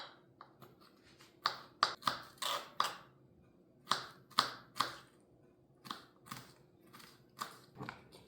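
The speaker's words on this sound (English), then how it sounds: "We want to chop these super, super fine." A knife finely chops peppers on a cutting board in short bursts of quick, crisp taps separated by brief pauses, close and fairly quiet.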